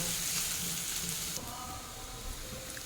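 Onions fry in a pan as they are turned over, giving a dense sizzling hiss with soft scraping and a brief shift in texture partway through, close and without speech.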